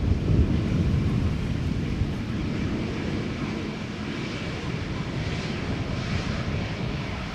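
An Airbus A320neo airliner comes in to land, its engines a loud, broad, steady roar with wind buffeting the microphone, the noise easing slightly as it passes.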